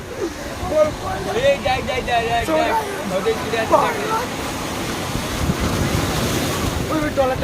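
Sea waves wash against the beach at Digha, a steady surf roar mixed with gusty wind buffeting the microphone, while voices talk over it throughout.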